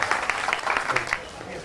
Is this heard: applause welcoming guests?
yes